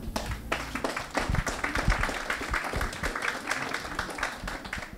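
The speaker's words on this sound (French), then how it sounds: "Bien, on va les applaudir." A church congregation applauds the choir after a song during a worship service, a steady patter of clapping with some louder taps, close and filling the room for about five seconds.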